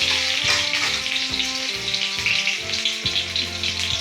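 Onion paste dropped into hot oil right after dried red chili, frying with a loud, continuous crackling sizzle close up, with no voices.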